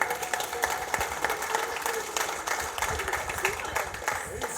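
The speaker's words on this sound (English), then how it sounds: "Everybody give them a round of applause." An audience at a real estate investor meetup gives a round of applause for two introduced members, a steady wash of clapping from a moderately sized crowd with some voices underneath.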